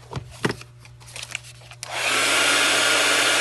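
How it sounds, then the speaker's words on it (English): Heat embossing tool switched on over embossed paper for distressed postcard backgrounds: after faint handling taps, a steady loud whooshing fan-heater roar starts abruptly and holds, close and alone. "When you use your heat tool, be careful, because the heat that comes off of this is really strong and it can burn your paper"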